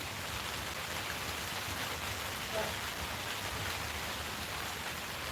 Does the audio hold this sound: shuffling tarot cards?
no